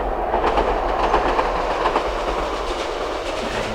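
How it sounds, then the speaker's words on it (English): A train rumbling past near a churchyard, a loud continuous roar with rhythmic clickety-clack of wheels over rail joints throughout, no voices. "Train's giving it some again."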